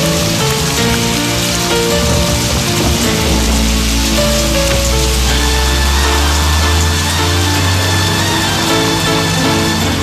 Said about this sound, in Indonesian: Hujannya tambah deras nih.